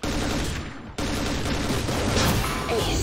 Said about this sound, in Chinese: 这人在不停的开枪